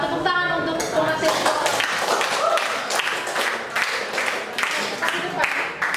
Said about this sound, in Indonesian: Tepuk tangan untuk pengasih.